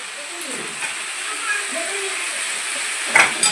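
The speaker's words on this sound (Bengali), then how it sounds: "এটাকে কিছুক্ষণ আমি আরও ভেজে নেবো" Capsicum and tomato fry in a pan, giving a steady low sizzle and hiss throughout. Faint stirring scrapes break in now and then, and there is a brief louder clatter near the end.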